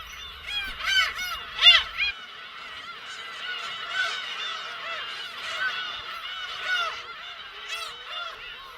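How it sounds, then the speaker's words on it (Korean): A colony of black-tailed gulls calling during breeding season on Hongdo island, many overlapping honking, mewing cries near and far, forming a busy continuous chorus with louder calls standing out early on. "겨울철과 달리 번식철에는 괭이갈매기에게 가까이 접근할 수 있습니다"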